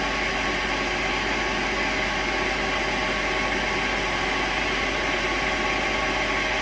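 An antique transmission drum turning on a lathe at 400 RPM while being machined, a steady loud broadband whir and hum that holds constant without pause.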